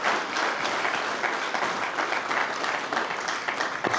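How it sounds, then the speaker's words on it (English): An audience at a ceremony claps in a sustained round of applause, dense overlapping hand claps filling the room evenly from start to finish. "So I'll get a round of applause for Mr. Colville and all that he's given."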